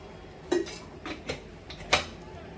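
A spoon clinking and scraping in a bowl while gram flour batter is mixed for crispy potato fritters, a few sharp close taps spread over quiet room tone.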